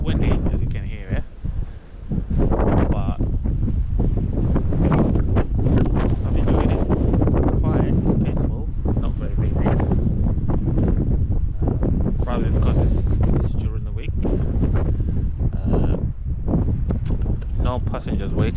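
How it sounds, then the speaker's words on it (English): Strong wind buffets the microphone at the Ribblehead Viaduct railway site in North Yorkshire, a loud, continuous roar with gusty swells throughout and no clear talk. "It's still windy, as you can hear it."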